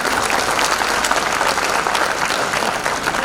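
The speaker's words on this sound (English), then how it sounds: "Please give a big round of applause." A crowd applauds at a school annual day, dense and continuous clapping filling the whole stretch at an even level, with no talking over it.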